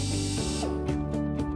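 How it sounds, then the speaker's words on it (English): A power drill with a 1/8-inch bit bores a small pilot hole while a baby gate pivot bracket is installed, giving a steady whining motor hum with short pulses of load. "Using a drill with a 1/8 diameter drill bit, drill a small pilot hole."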